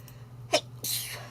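A single sharp human sneeze bursts out near and loud, followed by a breathy exhale, in a scene from the animated film Free Birds.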